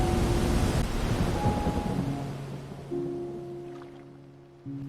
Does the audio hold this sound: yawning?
no